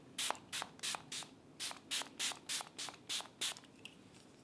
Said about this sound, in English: now I'm going to spray you again as we get you ready to sleep